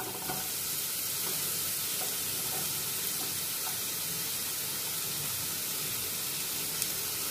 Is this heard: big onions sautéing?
yes